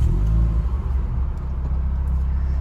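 A Renaultsport Clio F1 Team Edition engine runs at idle, a steady close low rumble that is loud and even for a few seconds with no talk.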